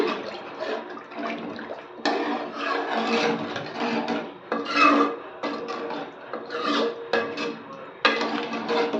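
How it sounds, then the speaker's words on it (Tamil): Fish curry with tamarind water stirred in a pan, a continuous rough scraping and sloshing with rhythmic strokes, close and steady throughout, no talking. "நல்லா கலந்து விட்டுருங்க."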